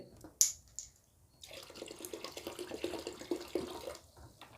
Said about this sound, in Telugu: ఒక బకెట్లోకి తీసుకోండి ఇందులోకి వెనిగర్ని పోయండి